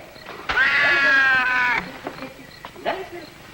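A cat lets out one long, drawn-out meow in an old radio space adventure drama, loud and close, followed by a few shorter faint sounds and brief voices.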